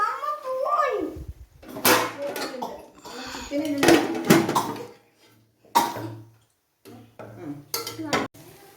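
Ghee fried rice being stirred in a pot, with repeated clanking and scraping of a spoon against metal in short bursts, mixed with coughs and occasional voices nearby.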